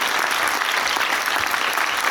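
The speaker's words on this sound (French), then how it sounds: "Allez-y, applaudissez-le." An audience applauds at a scientific talk on the health crisis, a dense, even wash of clapping hands that holds steady from start to finish.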